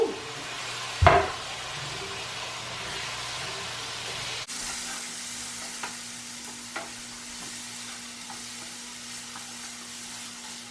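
Potatoes seasoned with Old Bay frying in a pan while being flipped again for brunch, giving a steady close sizzle with one sharp scrape and clatter near the start, then a softer, even crackle with small stirring clicks.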